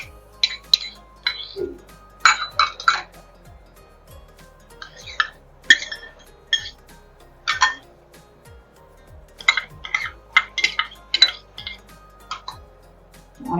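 Chopped salad vegetables such as cucumber, beetroot, carrot, onion and tomato are tossed in a bowl with a spoon, producing irregular bursts of clinking and scraping that come close together, between short quiet pauses, with no voices.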